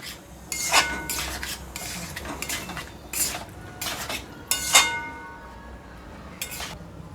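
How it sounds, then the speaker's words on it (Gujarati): Spoon scraping and clinking against a pan while paneer chilli gravy is stirred over a raised gas flame, a series of sharp metallic scrapes and knocks in an uneven rhythm, close and fairly loud with no talking. "હવે આ બધું નાખી અને સરસ ગેસની ફ્લેમ થોડી ફૂલ કરી અને હલાવી લેવાનું"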